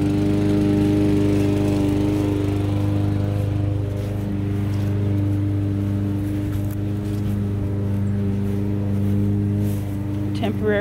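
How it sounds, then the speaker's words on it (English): A lawn mower drones steadily nearby, a loud continuous engine hum with a voice speaking over it now and then. "Excuse the lawnmower."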